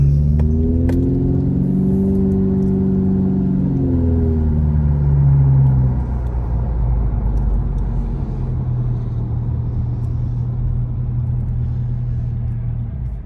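Road traffic passes on Big Bear Boulevard in Big Bear Lake. A nearby car engine rumbles loudly, its pitch rising and falling as it moves off, and a steady low traffic drone continues with no talking.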